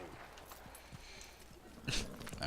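Horse hooves clip-clop in the Assassin's Creed video game, a steady near walking rhythm of soft thuds over the game ambience, with a louder shuffle near the end.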